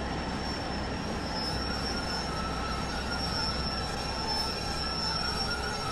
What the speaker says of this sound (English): The brake squeal's pretty nice as well.